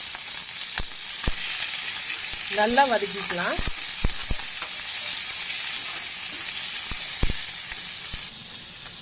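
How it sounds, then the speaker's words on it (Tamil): Garlic, green chilies, shallots and tomato sauté in coconut oil for kollu kadayal, giving a loud, even sizzle. Scattered ladle taps on the pan and a brief squeak mid-way break the hiss, which eases off near the end. "சேர்த்துட்டு நல்லா வதக்கிக்கலாம்."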